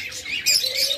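A tame cockatiel gives a couple of short, bright chirps, close and clear, with no talking.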